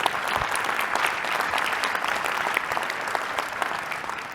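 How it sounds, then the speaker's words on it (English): A large audience at a corporate leadership summit breaks into full, steady applause, dense and sustained throughout with no break. "please give a round of applause for all of those people"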